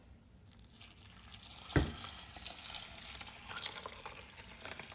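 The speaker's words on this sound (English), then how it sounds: "And then we add 4 cups water." Four cups of water poured into a glass container of organic oats: a steady, close rushing splash that begins suddenly with a sharp thunk and keeps running without pause.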